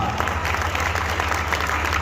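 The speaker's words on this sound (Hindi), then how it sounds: "तालियां आपकी अभी भी कमजोर है।" Loud, continuous applause and clapping from an audience at an outdoor Hindi poetry gathering honoring martyred soldiers, a dense steady crowd roar filling the whole moment.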